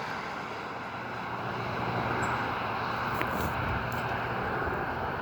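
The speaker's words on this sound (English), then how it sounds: "We still have the helicopter dumping water on it though." A helicopter flies over a wildfire while dumping water on it, heard as a steady, broad engine and rotor roar at middle distance with wind.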